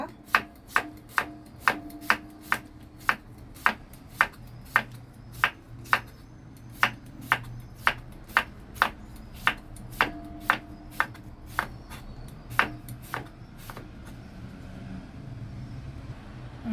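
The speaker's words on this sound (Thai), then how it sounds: "หั่นแตงกวานะคะ หั่นเป็นชิ้นบางๆนะคะ เราจะหั่นเขียงอย่างนี้นะคะ" A knife slices a cucumber thinly on a cutting board, about thirty crisp, evenly spaced strikes, close and clear, before stopping.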